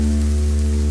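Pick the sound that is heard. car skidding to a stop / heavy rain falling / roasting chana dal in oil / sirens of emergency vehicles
heavy rain falling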